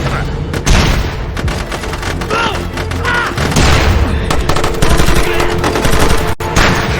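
In the game SOCOM Fireteam Bravo 3, a loud explosion bursts amid rapid bursts of automatic gunfire and heavy thumps, forming a dense, continuous barrage close at hand with a brief sharp cut near the end.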